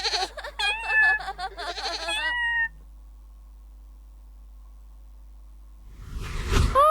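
A goat's short bleat rises near the end after a stretch of near silence, preceded by bright whistly, chirpy tones.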